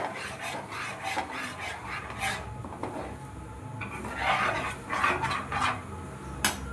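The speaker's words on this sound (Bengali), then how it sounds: "আমি দুধটা আমি সুজির মধ্যে ঢেলে দিচ্ছি আমি এটাকে ভালো করে নাড়তে থাকবো না তো দলা পাকিয়ে যাবে" Milk is stirred into semolina in a pan, giving close, repeated scraping and rasping strokes of a spoon against the metal in an uneven rhythm, with no talking.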